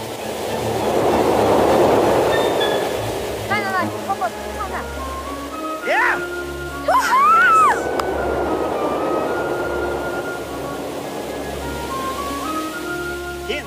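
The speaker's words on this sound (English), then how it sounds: "The train's coming." A passenger train rolls along the Norwegian fjord coast, its broad rumble swelling and fading over several seconds while a group of people talk nearby; birds call in the background.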